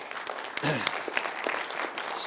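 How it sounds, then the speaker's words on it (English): A big round of applause from a business seminar audience, a dense burst of clapping that swells and continues steadily for a couple of seconds, filling the room. "Let's give Ken a big round of applause"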